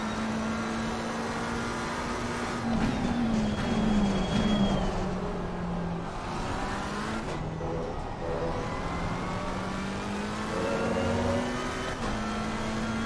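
A Ferrari race car engine in Assetto Corsa Competizione at Silverstone, a steady droning tone rising and falling with gear changes, heard continuously from onboard with no talk.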